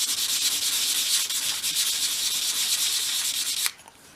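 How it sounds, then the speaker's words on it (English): Pieces of a small wooden box sanded by hand before dye or paint, a close, continuous rasping rub with quick back-and-forth strokes that stops abruptly near the end. "do just sand the surface of each piece just to prepare them for the wood dye or paint"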